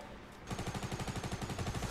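A rapid, even burst of automatic gunfire in Fortnite, about two dozen close, loud shots in quick rhythm following a brief quieter lead-in.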